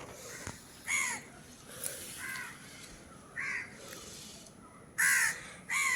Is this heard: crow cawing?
yes